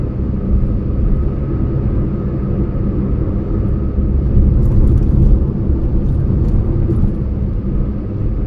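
A Maruti Baleno car cruising on the Agra-Lucknow Expressway at midnight, giving a steady, continuous low engine and road rumble with tyre noise throughout and no talking.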